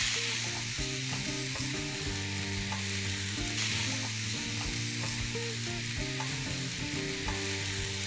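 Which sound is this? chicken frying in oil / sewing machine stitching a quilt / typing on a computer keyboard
chicken frying in oil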